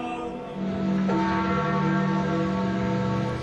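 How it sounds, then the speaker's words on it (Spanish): Church bells tolling at the Vatican during the procession of Pope Francis's coffin, a sustained ringing wash of overlapping tones that swells and holds steady, with no voices. "Las campanas repicaban"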